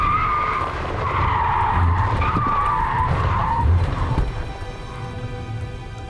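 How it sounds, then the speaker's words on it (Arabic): A car brakes hard from about 100 km/h on a road, with the anti-lock brakes pulsing. The tires give a loud, sustained skidding squeal over road noise for about four seconds before it eases off. "راح يصير تقطيع بالبريك على التايرات على مود تحافظ على مستواها العدل زين وما تنحرف عن الطريق"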